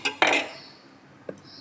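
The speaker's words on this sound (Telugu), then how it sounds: "ఒక స్పూన్ బేకింగ్ పౌడర్ అయితే వేసి కలుపుకుంటున్నాను" A spoon clinks sharply against a bowl a few times while stirring baking powder into water, with two quick knocks at first and one lighter tap after a short pause.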